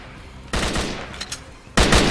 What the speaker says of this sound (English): Is that gunfire I'm hearing from the surface